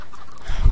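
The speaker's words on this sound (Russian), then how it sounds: "Боже, эти курицы." Chickens cluck in the Minecraft video game: a short, low, muffled clucking burst near the end of a brief moment, after quiet game ambience, with no voices.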